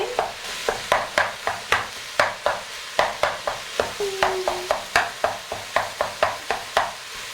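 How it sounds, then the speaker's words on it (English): Vigorous stir-frying of a shepherd's pie filling in a hot pan, with about twenty sharp, rhythmic spatula scrapes and knocks over a constant low sizzle, close and clear, with no talking. "turn it up a little bit and do like a vigorous stir fry"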